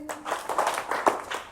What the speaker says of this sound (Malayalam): നമ്മൾ ഒറ്റക്കെട്ടായിട്ട് കയ്യടിക്കണം കേട്ടോ